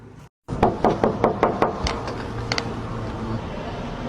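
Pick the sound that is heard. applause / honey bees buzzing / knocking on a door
knocking on a door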